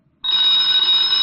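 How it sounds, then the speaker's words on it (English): A telephone bell rings out loud and close, a single sustained metallic ring starting abruptly after a brief silence, with no voices over it. "Get the phone, Walt."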